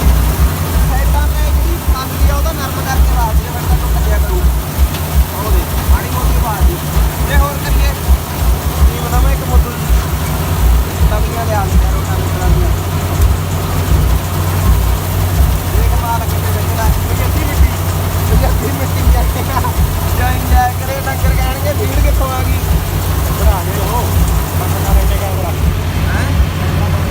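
A John Deere 5210 tractor drives a chopper in Punjab, its engine a steady, loud, low drone with rhythmic mechanical pulsing throughout, while people talk over it.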